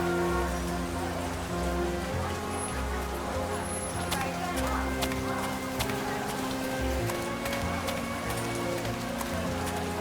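Steady rain patters down at night in World of Goo 2, a soft, even wash of drops running throughout beneath game music and a narrator's voice.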